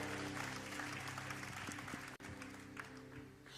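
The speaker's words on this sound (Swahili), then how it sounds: "Tumpe makofi Bwana Yesu kwa uaminifu wake." A church congregation applauding during a sermon on prayer day, a steady wash of many hands clapping for several seconds, faint and a little distant, with one brief dropout partway through.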